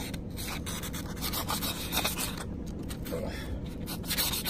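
Nail file boards rub back and forth along the rough edge of a coin ring, giving soft, close scratchy strokes that repeat irregularly at low volume.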